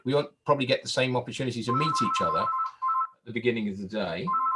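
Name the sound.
another telephone ringing in the room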